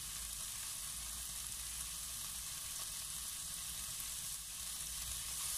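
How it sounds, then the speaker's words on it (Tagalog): Garlic and ginger fry in a pan with a steady, dense sizzle, close and even from start to finish, with no voices over it. "continue to fry hanggang lumabas po ang aroma ng ating ginger, bawang at garlic"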